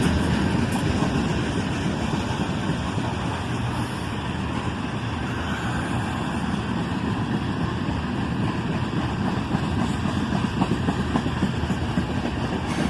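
A slow northbound-area freight train rolls past steadily, a long string of covered hoppers and tank cars giving a continuous loud rumble and wheel clatter throughout, with no voices.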